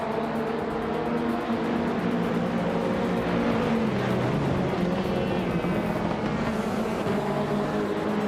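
Video game touring cars, led by a 2016 Opel Astra TCR, roar away at the start of the Okutama sprint, a dense, continuous engine drone with shifting pitch as they accelerate, with no voices.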